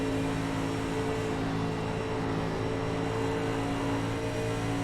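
A race car engine drones loudly and steadily up close, heard from the cockpit during an exhibition race, its pitch easing slightly as the driver lifts off the throttle.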